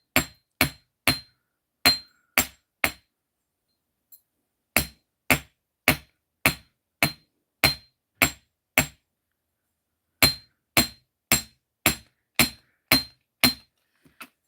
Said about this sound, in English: take your steel block and your nylon hammer, because you don't want to mar it any,